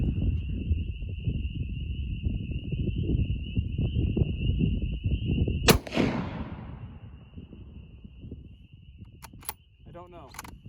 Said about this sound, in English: We're going to shoot at the solid part.